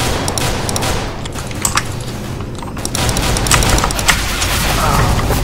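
Bursts of loud gunfire crackle over a dense, noisy Counter-Strike: Global Offensive game soundscape, with several sharp shots scattered across the span and voices faintly underneath.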